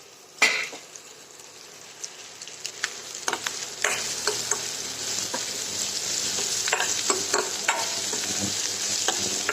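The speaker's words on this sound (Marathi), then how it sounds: "बेसन चांगलं हलवून झालं म्हणजे रस्सा भाजी छान खूप छान होती" Gram flour (besan) roasts in a pan while a spoon stirs it, producing a steady frying hiss with repeated sharp scrapes and clinks against the pan, close and fairly loud, with no voices.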